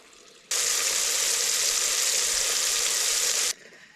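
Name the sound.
eel-tailed freshwater catfish frying in oil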